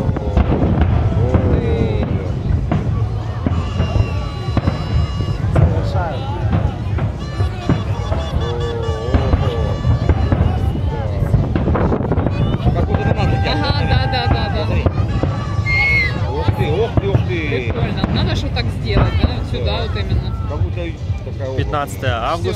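A fireworks display at a fireworks competition in Gelendzhik in August 2017: loud, continuous crackling and booming bursts, with people talking and murmuring nearby throughout.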